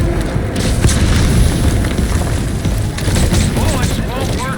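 In the Metal Gear Solid V video game a building bursts into flames: a dense roar of fire and booming blasts, loud and continuous, with sharp cracks scattered through it.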